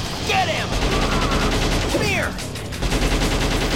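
Gun robots firing in the video game Shadow the Hedgehog, a dense, continuous fusillade of rapid shots layered with whooshing sweeps, loud and steady throughout with no voice on top.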